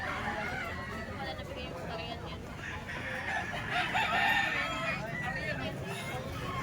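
Young ball stag roosters crow in the background while someone talks over them, with clucking and outdoor chatter around.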